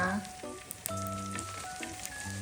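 Food frying in a pan in a home kitchen, a steady close sizzle running throughout, with music tones layered over it.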